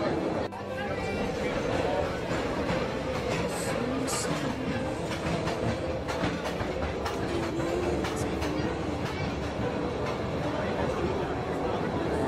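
Tourist train rolling through the Postojna cave in Slovenia, a steady dense rumble with rail clatter throughout, with someone talking over it.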